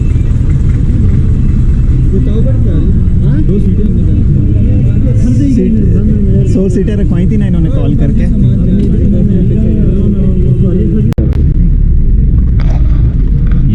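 Jeep engine rumbling loud and steady in a mountain area of Kashmir as the vehicle sets off with passengers aboard, a low continuous drone under close conversation and a single sharp knock near the end.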